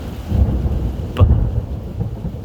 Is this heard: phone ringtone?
no